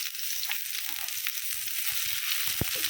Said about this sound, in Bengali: কালো জিরা আর মরিচ ভাজা হয়ে গেলে দিচ্ছি রসুন